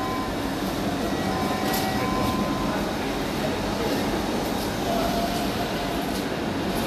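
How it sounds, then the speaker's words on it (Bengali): Metro rail train at a station platform: a steady, loud rumble and hiss of the train and station fill the whole stretch, with faint tonal squeals and background voices mixed in. "এটা হলো মেট্রো রেল"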